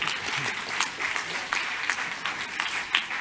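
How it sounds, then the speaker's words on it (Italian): An audience applauds a startup founder at a pitch event, a steady close round of many hands clapping with scattered sharper claps standing out, unbroken from start to finish. "Un applauso a Giovanni, glielo facciamo."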